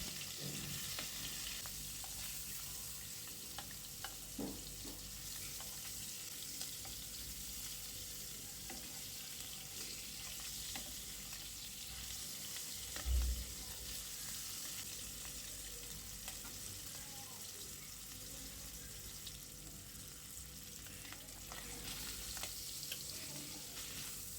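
Mustard, green chili, salt and garlic fry lightly in a pan, giving a steady, soft sizzle that runs unbroken throughout with one brief louder bump partway, and no talking.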